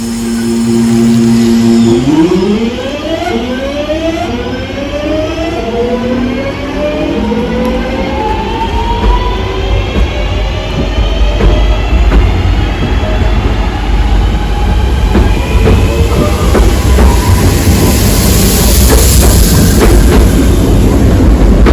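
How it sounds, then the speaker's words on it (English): A Class 323 electric train bound for Redditch draws into Four Oaks station on the Cross City Line, loud and close, with a falling motor whine, rolling rumble and squealing wheels that persist throughout, with no talking. "there's the train which is actually to Redditch, which is just pulled in"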